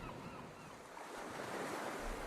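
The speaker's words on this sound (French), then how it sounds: "je pouvais entendre les vagues" Sea waves wash continuously onto the shore of a coastal town, a soft, steady surf roar mixed with wind buffeting the microphone, fairly faint and with no voices.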